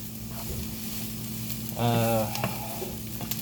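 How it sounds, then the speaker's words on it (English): Onions cook in a pan with a steady sizzle, and a louder burst of stirring comes midway, close and without talk. "Mama does love the onions to be almost disintegrating, so I let them cook first a little bit"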